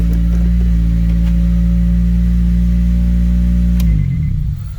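A 2003 Acura RSX Type S engine idling after a power steering high pressure line replacement, a loud, steady low drone with a constant tone that runs close by, then cuts off near the end.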